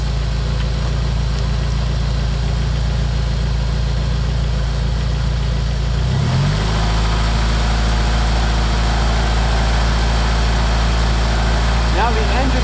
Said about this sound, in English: Now the engine's running at a higher RPM.